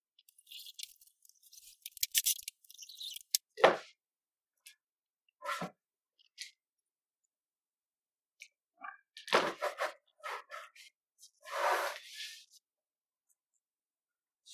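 Curtain fabric being cut with scissors for a homemade softbox, heard as a few separate crisp snipping and rustling bursts with quiet pauses between them, close and fairly soft, with no talking.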